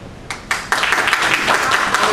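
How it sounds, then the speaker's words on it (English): Applause at a League of Women Voters lieutenant governor candidates' forum, starting as a few scattered claps and quickly swelling into fuller, steady clapping from the audience. "Round of applause"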